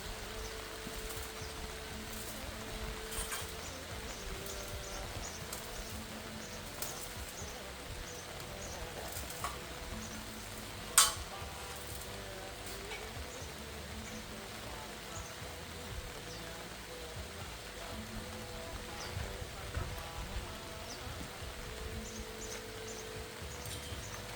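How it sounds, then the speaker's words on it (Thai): Rain falling outdoors at a rural home, a steady faint hiss of light rainfall with scattered drops and one sharp tap partway through, no voices. "ดูบรรยากาศนะคะฝนตกแล้ว ฝนตกแล้วนะคะทุกคน"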